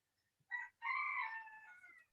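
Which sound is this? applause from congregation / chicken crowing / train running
chicken crowing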